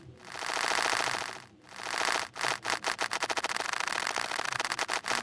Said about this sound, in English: So if we put it at 360 degrees, we'll hear both sides of the signal doing the exact same thing, like this, which almost creates a tremolo.